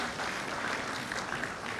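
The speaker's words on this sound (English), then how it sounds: "A huge applause to the team from Greater Noida, from MIT Business School." A business-school conference audience breaks into dense, continuous applause, many hands clapping at once in an even, steady wash with no voices over it.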